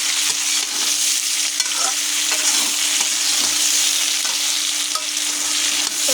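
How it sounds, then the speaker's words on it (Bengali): Ginger-cumin paste stirred into frying fish curry in a hot pan, a loud, steady sizzle with continuous scraping stirs throughout, close and alone with no voices. "তো আমি এগুলো তরকারিতে দিয়ে দিলাম, আদা জিরা বাটা দিয়ে ভালো করে নেড়ে দেবো।"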